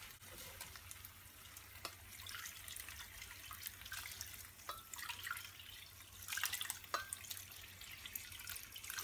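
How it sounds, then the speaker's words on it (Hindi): Water is poured into a pot of rice in a home kitchen, a faint, steady trickle with small splashes and drips that carries on alone without any talk. "हम इसमें पानी डाल देंगे।"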